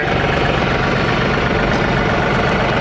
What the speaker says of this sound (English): I couldn't even budge it, and this tractor lifts it